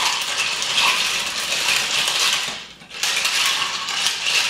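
A spoon vigorously stirring a Waterloo gin gimlet mixed drink in a glass, producing a continuous rapid clinking and rattling close by with a short pause midway, no talking.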